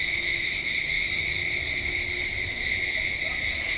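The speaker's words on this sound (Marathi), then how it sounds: "तुम्हाला रातकिड्यांचा आवाज येतोय का एवढा रातकिड्यांचा आवाज येतोय ना" Crickets chirp at night in a continuous, even high trill, with a second layered tone holding steady throughout, loud and close, under faint background hum with no voices.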